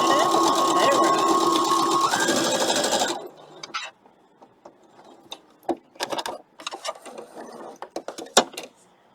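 Sewing machine stitching Halloween quilt block fabric, a loud steady whirring run for about three seconds that stops abruptly, followed by scattered soft clicks and handling sounds.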